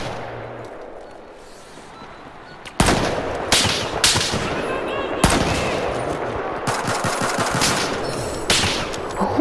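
Rapid bursts of gunfire in a Battlefield 4 sniper battle, loud and close, with repeated sharp shots and volleys starting after a quiet opening, over a continuous game soundscape.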